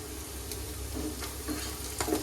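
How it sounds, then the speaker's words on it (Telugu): Curry leaves dropped into hot oil for an egg masala fry give a close, continuous crackling sizzle with a few brief pops, fairly quiet, with no voices. "కరివేపాకు వేస్తున్నానండి"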